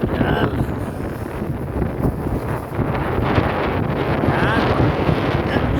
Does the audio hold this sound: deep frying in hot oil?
no